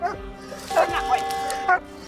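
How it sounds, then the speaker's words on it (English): A 38-kilo German Shepherd police dog snarling and barking close by during an arrest: several loud, sharp barks with growling between them, in short bursts over a steady background. "they've got 38 kilos of German Shepherd snarling and barking at them"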